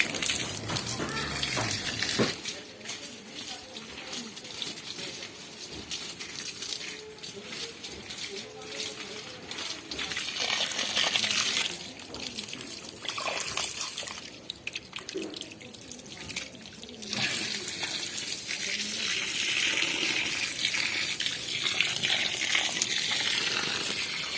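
Water splashing and trickling over stairs as they are washed, running and dripping steadily with some louder gushes, while people talk nearby.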